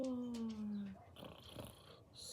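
A faint voice imitates a cat purring and snoring in a soft, low, drawn-out rumble that fades into breathy hissing noise.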